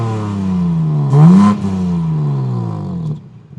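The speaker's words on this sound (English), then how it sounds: "quad exhaust outlets pumping out phenomenal exhaust sound" A 2025 BMW M4 CS engine revs through its quad exhaust outlets, a loud, close, steady drone that swells in one sharp blip before settling and fading out.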